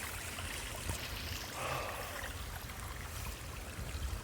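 Water streams over a small dam in a Scottish glen in winter, a steady close rushing wash with a brief brighter splash partway through, no voices.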